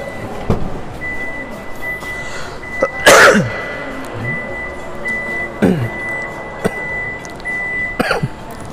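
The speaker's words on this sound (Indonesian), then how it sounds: "Gua jadi batuk-batuk ya." Inside a 2023 Toyota Fortuner 2.8 GR Sport, a man gives several sharp, loud coughs or sneeze-like bursts spaced a few seconds apart in an otherwise quiet cabin.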